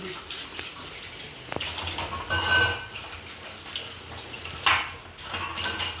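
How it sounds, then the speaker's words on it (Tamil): Pots and utensils being washed at a sink, metal clattering and scraping against each other with splashes of water, close and fairly loud, in a busy continuous rhythm with no talking. "இப்போ சாமான் கழுவி"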